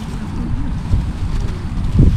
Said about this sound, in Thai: วันนี้ลมก็แรงนะครับ